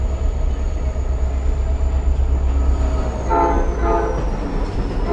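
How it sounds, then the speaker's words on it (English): A train rumbles steadily along the track of the Lehigh Gorge Scenic Railway with a low continuous roar, a faint high whine above it, and some rattling that builds near the end. "Another train coming in along the track to the left from Reading."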